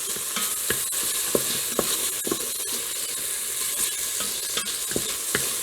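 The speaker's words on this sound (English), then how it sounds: "So we have started the cooking process on the bacon, and this is what it looks like." Bacon sizzling in a Fissler pot on the sauté setting for Southern green beans, a steady bright crackling hiss with occasional pops and stirring scrapes, close and constant.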